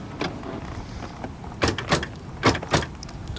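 Power door lock on a 1987 Buick Grand National actuating, a few sharp mechanical clunks close by over a soft background hiss, with no talking.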